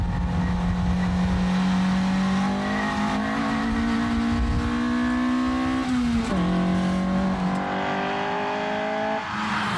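Fiat 128 Rally four-cylinder engine, rated 110 horsepower at 7500 rpm, revving hard and close: a loud sustained drone climbing steadily in pitch, a brief dip as it shifts, then climbing again with no talk.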